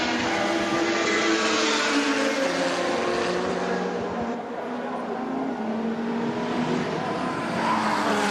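A Peugeot race car at the 24 Hours of Le Mans 2010 sweeps past at speed, its loud engine note climbing and falling in pitch over several seconds amid other track noise.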